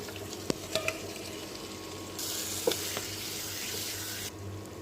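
Country chicken pieces hitting hot oil and well-fried spice paste in a pan, sizzling steadily with a louder, denser hiss in the middle and a few stirring knocks, no talking.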